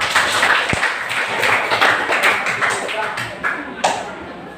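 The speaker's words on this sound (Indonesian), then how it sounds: "Tepuk tangan dong." An audience claps in an indoor coaching session, with scattered, uneven hand claps and taps building into light applause. Voices murmur underneath.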